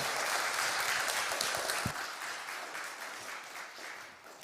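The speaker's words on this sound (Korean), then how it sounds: "다음 세대를 박수로 부탁합시다." A congregation applauds during a Friday late-night prayer service at a church, a full wash of clapping that starts strong and gradually tapers off.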